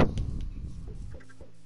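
Short burst of clucking from a video-game chicken, loud at the onset and then fading into softer, scattered clucks over a little under two seconds, with no talk over it.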